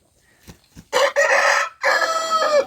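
A rooster crows twice, loud and close, each call drawn out and ringing, after a few soft clucks from chickens in a backyard flock.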